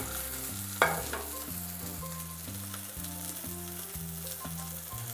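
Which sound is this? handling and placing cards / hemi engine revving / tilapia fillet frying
tilapia fillet frying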